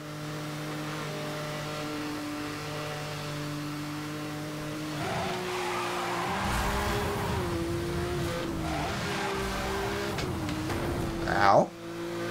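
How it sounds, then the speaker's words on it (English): A racing car engine in Need for Speed Hot Pursuit Remastered drones steadily through a tunnel, then revs and shifts pitch as it accelerates, ending in a brief loud surge, with a voice faintly underneath. "Driving all through the tunnel, hear that engine."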